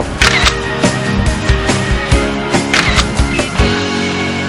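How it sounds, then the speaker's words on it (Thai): A single-lens reflex camera's shutter fires repeatedly in a quick series of sharp mechanical clicks, each snap distinct and close, with no talking. "กดชัตเตอร์ลงไปครึ่งเดียว"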